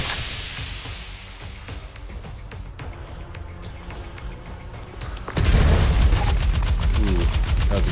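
A rocket is fired at a boss in the shooter Scathe, landing as a sudden loud blast over ongoing combat noise and rapid gunfire that stays dense and heavy afterward.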